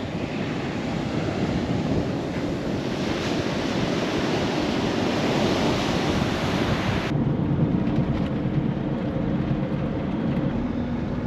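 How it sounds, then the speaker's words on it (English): Strong wind buffets the microphone on a windy beach at Seaspray on 90 Mile Beach in Australia, with a steady broad roar of surf underneath, loud and continuous throughout with no talking. "So this is the beach at Seaspray, or Windy Spray as it is today."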